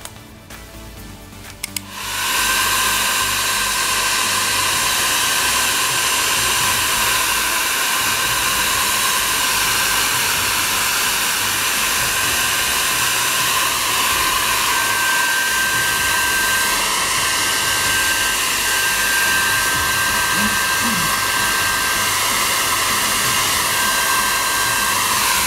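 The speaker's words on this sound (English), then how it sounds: "I'm just going to quickly get the dryer, the broken dryer." A broken, wonky hair dryer switches on after a couple of seconds and blows loudly and steadily, a constant roaring whoosh with a thin whine.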